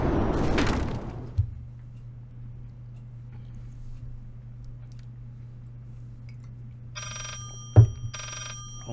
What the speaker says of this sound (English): this phone does not shut up